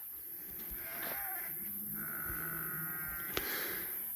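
Kalahari Red goat ewes bleating on a farm, several overlapping wavering calls close by, one long drawn-out bleat in the middle and a sharp knock near the end.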